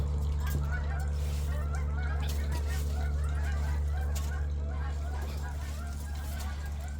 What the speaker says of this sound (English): There's our geese.